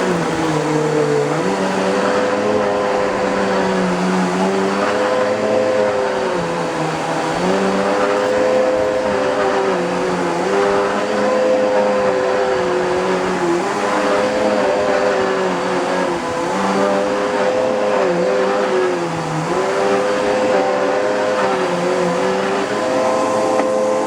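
Panasonic MC-UG415 (Sanyo Performax) upright vacuum cleaner running steadily and loudly up close, a continuous motor whine with a slowly wavering pitch and no talking.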